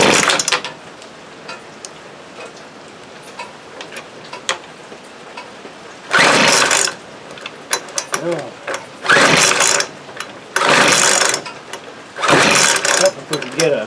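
A Weed Eater FB25 leaf blower, found at a thrift store after sitting unused, gets four sharp, raspy pull-cord yanks in fairly quick succession, each a brief mechanical burst, without the engine catching between them.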